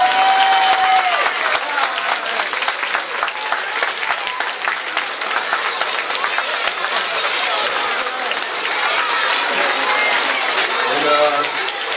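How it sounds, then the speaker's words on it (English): A crowd applauds as a fan is presented with a #1 fan jersey at a Buccaneers NFL event, sustained loud clapping with scattered cheers and voices mixed in for the whole stretch. "Give her a round of applause as we present her with the #1 fan jersey."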